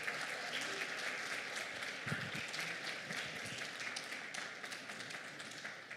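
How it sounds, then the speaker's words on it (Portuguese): A church congregation at an anniversary service applauds, a dense, steady wash of many hands clapping at moderate distance that holds for several seconds and begins to thin toward the end. "Queria que você a recebesse com uma salva de palmas ao Senhor."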